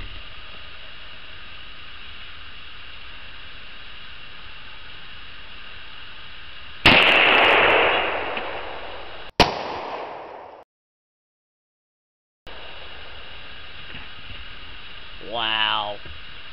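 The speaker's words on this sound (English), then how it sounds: "I put it in the AR-15. I'm going to shoot this can of Coca-Cola and see what happens." An AR-15 rifle loaded with VMAX 5.56 ammunition fires at a Coca-Cola can, giving one loud, sharp shot with a ringing decay, then a second sharp crack, a brief silence and quiet outdoor noise.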